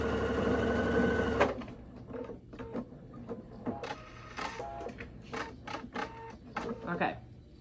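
A sewing machine stitches a seam on furry scarf fabric, a steady loud whir for the first second and a half, then quiet, with faint clicks and handling noises while someone talks.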